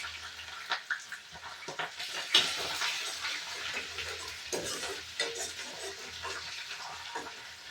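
Garlic goes into frying onions in a pan, giving a soft continuous sizzle with intermittent stirring scrapes and light clicks, close and fairly quiet.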